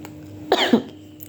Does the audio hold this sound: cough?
yes